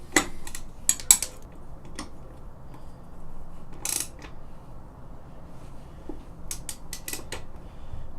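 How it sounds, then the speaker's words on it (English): Socket wrenches ratchet as two motor mount bolts come off a KLR650 motorcycle during a crash bar install. Short, sparse clicking bursts sound close by over a quiet background. "We've got to remove 2 motor mount bolts. So let's use 2 socket sets simultaneously."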